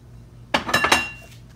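A bowl is taken out and set down in a kitchen, giving a few quick ringing clinks of dishware close by, three or four knocks in under half a second that fade into a soft tail.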